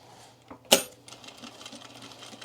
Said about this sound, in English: I'm relearning how to sew this.